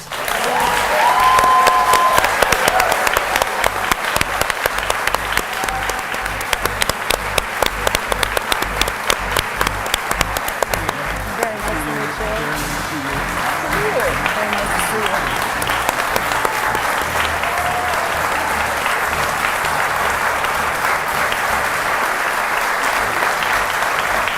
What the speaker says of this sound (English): we welcome you to applaud at this moment as we welcome the candidates, Republican incumbent Rob Portman